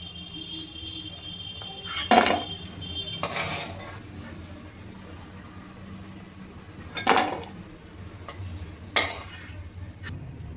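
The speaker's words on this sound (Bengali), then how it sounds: "এইভাবেই আমি সমস্তগুলো লাল করে ভেজে নেব" Potato pieces fry in oil in a wok, with a low, steady sizzle broken by a few sharp scrapes and clinks of a spatula against the metal. No one speaks.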